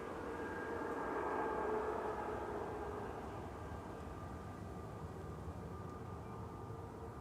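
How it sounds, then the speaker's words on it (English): A small ATR 42 turboprop arriving at Manchester Airport on a flight from Inverness, a steady distant engine drone that holds evenly with a slight swell early on, with no talk over it. "GLMRA coming in from Inverness, flight 597. This is a little ATR 42."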